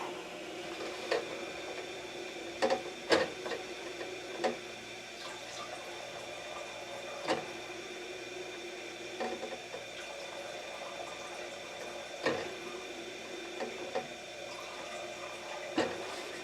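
A water softener tank being refilled after sitting unused for over a year: a steady, faint, continuous rush of running water with a low hum, broken by a few soft clicks and taps, and no talk.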